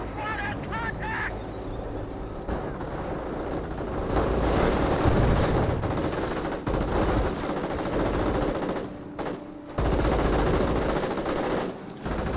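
Bursts of machine-gun and rifle fire fill a Company of Heroes 1 battle, rattling almost continuously over a dense layer of combat noise, while a commentator talks over it.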